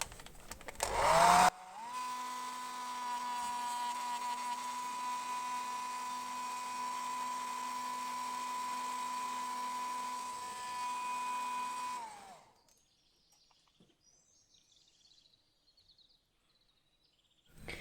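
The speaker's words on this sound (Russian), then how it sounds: "И сейчас при помощи фена мы уберем все черные метки." A hair dryer blows marker marks off fabric on a handmade Easter bunny decoration. After a brief rustle, its loud, steady whining drone runs for about ten seconds, then cuts off into near silence.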